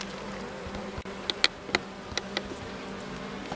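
Honeybees hum over honeycomb frames in an open hive on a sunny day, a soft continuous buzz with several sharp clicks and ticks scattered through it.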